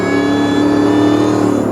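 A supercharged truck fitted with a whine mod revs steadily, its loud high supercharger whine riding over the engine drone throughout with no pause.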